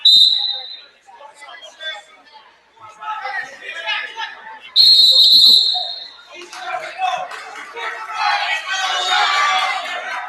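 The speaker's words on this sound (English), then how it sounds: "Whistle." A referee's whistle at a high school state wrestling championship gives a sharp blast at the start and a longer loud blast midway. Crowd chatter, voices and gym noise fill the gaps between the blasts.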